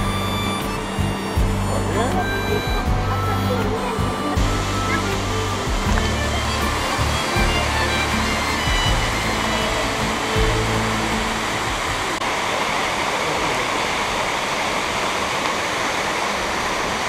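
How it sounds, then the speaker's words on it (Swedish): Waterfall near Black Beach on Langkawi's northeast coast, a steady broadband roar of falling water that runs throughout, with some low rumble and background voices or music early on. "Grymt vattenfall."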